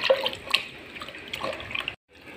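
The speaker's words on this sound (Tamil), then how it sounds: "கையை நல்லா கழுவிக்கலாமா." Hands washed under running tap water, a close, steady splashing trickle with small drips and spatters for about two seconds before it stops abruptly.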